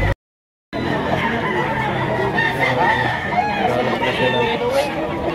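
Roosters crowing among clucking chickens at a busy chicken market in Lipa, Batangas, several birds calling at once over crowd murmur and voices, after a brief silent gap at the start.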